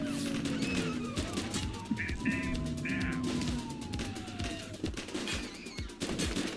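Gun battle in The Precinct video game, with rapid bursts of close gunfire crackling nonstop over a wailing police siren, and voices shouting through the shooting.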